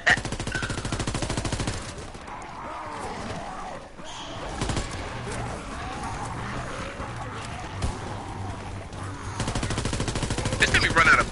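Gunfire in Call of Duty WW2, rapid automatic bursts rattling near and loud at the start and end, with scattered shots and game noise between them.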